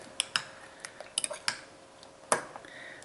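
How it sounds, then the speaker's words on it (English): A fork scrambles egg yolks in a dish for a low-carb microwave breakfast, making a series of sharp, light metallic clinks and taps at an uneven rhythm, close and clear with no talking. "scramble up the egg yolks"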